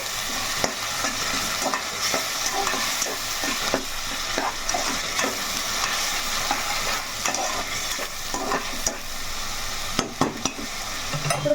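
Mutton paya masala with coriander fries in a pan, sending up a steady close sizzle broken by frequent scraping stirs and an occasional clink of a spoon against the metal, with no voices.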